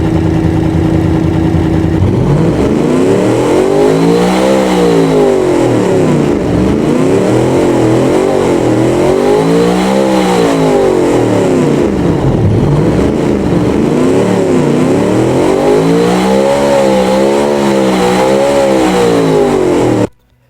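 A small 1970s car engine in the BeamNG driving game revs hard to high RPM in repeated rising and falling sweeps, a loud, steady mechanical whine that holds for about eighteen seconds before cutting off abruptly.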